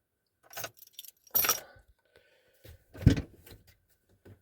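Keys jangle and click at the door of a 2007 Chevy Silverado truck, a few short metallic rattles and a latch sound spread over several seconds, close and fairly quiet, with no talking.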